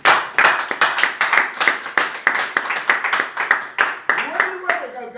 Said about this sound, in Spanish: Palmas para el Señor.